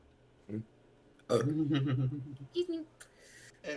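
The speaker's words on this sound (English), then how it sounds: "Let's all laugh at the burps." A single drawn-out burp with voiced, rumbling low tones lasts about a second, followed by a few shorter gulping bursts and a faint earlier grunt, heard fairly close amid a tabletop role-play session.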